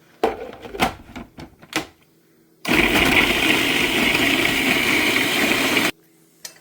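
A few sharp knocks and clicks, then a mixer grinder whirs loudly for about three seconds before cutting off abruptly.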